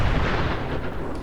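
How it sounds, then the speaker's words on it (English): Distant explosions from a large battle in Fallout 4, a deep rumbling boom that rolls on with low, heavy energy and fades slightly over about a second. "Lots of explosions and stuff from the big battle that's happening down there."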